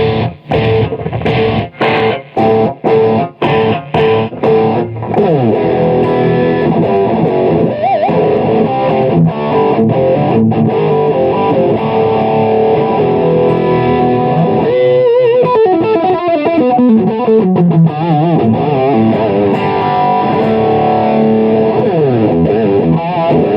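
Loud distorted electric guitar played through an ELD 2x12 cabinet modeler, opening with choppy staccato chugs and then sustained riffs and bends, heard alone with no talking.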